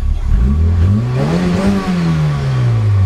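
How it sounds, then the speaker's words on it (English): A 2.3-litre car engine running E85 with a tubular manifold and a replaced spring revs up, its pitch climbing to a peak and then sliding back down, loud and close, with no talking. "The car, after I changed the spring out, it revs a lot cleaner now."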